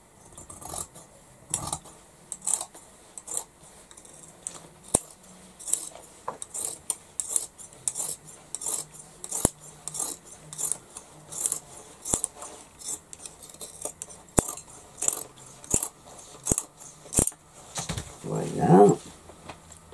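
Scissors snip through fabric for a large tote bag in a string of sharp, close cuts, some quick and some spaced apart, with a brief rustle of cloth near the end and a French-speaking voice heard faintly.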